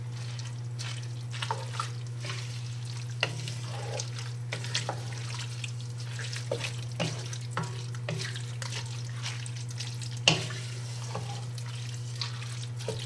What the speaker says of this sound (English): now we just need to mix this up